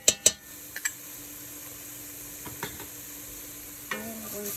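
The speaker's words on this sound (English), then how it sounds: "I am going to mix the tomato paste until the tomato paste is caramelized." Tomato paste being stirred in a Dutch oven with a utensil, a few sharp scrapes and knocks near the start, then softer intermittent scraping over a faint steady sizzle, with no voices.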